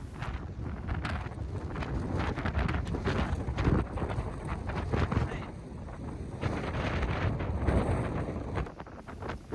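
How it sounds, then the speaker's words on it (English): A strong wind storm lashes a California beach, sending a loud, steady roar and buffeting gusts across the microphone, with what may be surf churning underneath and no voices. "the wind just keeps getting stronger and stronger"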